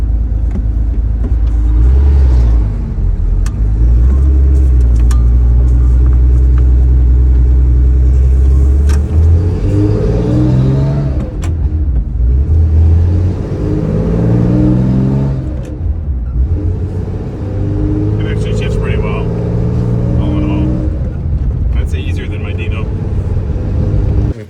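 A 1972 Porsche 911S is driven on a short warm-up run before a transmission fluid change, its engine rumbling continuously and rising and falling through gear changes, heard from inside the car with some talking over it.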